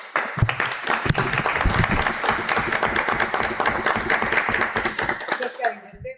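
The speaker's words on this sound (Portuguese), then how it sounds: "congratulamos e aplaudimos a homenageada" Applause for an honoree during a municipal council session, a dense crowd of hands clapping steadily and loudly, sustained and fairly close before tapering off at the end.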